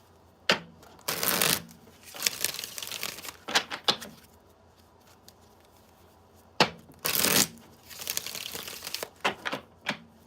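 Tarot cards are shuffled in several quick riffling bursts, crisp and close, separated by short quiet gaps and softer handling sounds.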